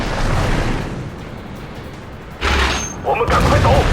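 A tank cannon firing in a tank combat video game: a steady rumbling engine bed, then a sudden loud booming shot near the end, with game sounds layered over it.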